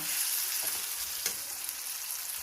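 Steady hissing sizzle of food frying in a pan, with faint scraping as it's stirred, close and continuous.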